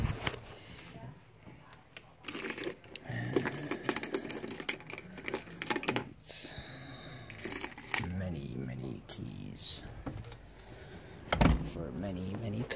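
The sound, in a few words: car keys being fetched for a Volvo 940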